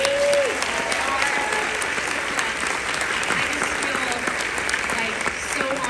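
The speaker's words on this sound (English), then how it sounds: "Can we just get one more round of applause for how great they are?" A live audience at an endometriosis panel gives the panelists a loud, sustained round of applause, full and continuous, with a few cheers and voices mixed into the clapping.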